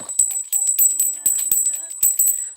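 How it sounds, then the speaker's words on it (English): A bell rings with a steady, bright ringing tone that holds throughout, broken by several soft clinking strikes over about two and a half seconds; no one speaks. "Bell has rung, you guys,"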